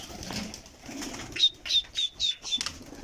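A short run of wing flaps from pigeons, several quick beats in a row, close and fairly loud against a quiet background.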